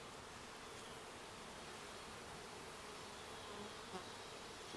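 Honeybees hum in a continuous, even drone while being relocated into a top bar hive, a faint dense buzzing swarm sound with no voices.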